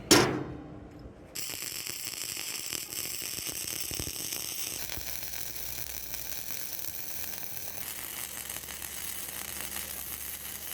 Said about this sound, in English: All right, let's weld it right there.